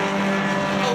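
Mazda race cars in SVRA racing at Mid-Ohio blare past as they battle for first place in a class, a loud, steady, high-revving engine whine with layered tones that holds for a brief moment.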